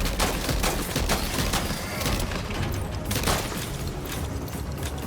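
Gunfire in Death Stranding 2, a steady stream of sharp shots mixed with mechanical clatter, moderately loud and continuous through a busy firefight with no clear talk.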